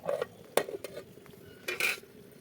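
Fish cooking in a covered pan, with a few sharp metal clinks and scrapes of a utensil stirring against the pan between quieter stretches, close up with no talk.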